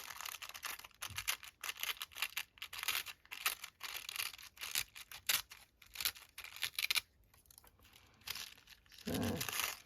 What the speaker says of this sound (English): I'm going to just rip down this end.